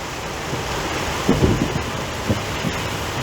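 Rain and thunder during a storm, heard from a roadside spot with heavy rain falling, a continuous loud hiss of downpour with low rumbling bursts near the middle and end.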